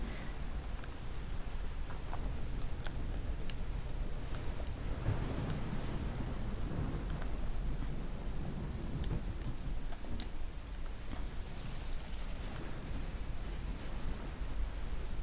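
Heavy rain pours steadily in Mass Effect 3, a dense, unbroken hiss with low rumbling thunder underneath and occasional faint clicks, loud and continuous throughout.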